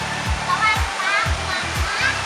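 Steady rushing water from a waterfall at a riverside spot where fish is grilled on a stone slab, with a low, rhythmic pulsing hum beneath the continuous roar.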